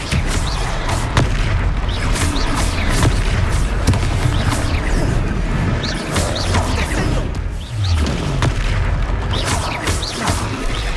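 Loud, dense spell-combat effects from the video game Hogwarts Legacy as an Expelliarmus spell is cast, a continuous barrage of booming blasts and crashing impacts with no pauses.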